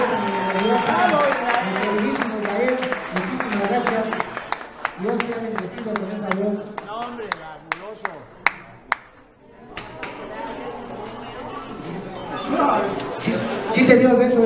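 An audience at an awards ceremony applauding a singer, a sustained crowd clapping with scattered sharp claps and chatter, voices talking over it.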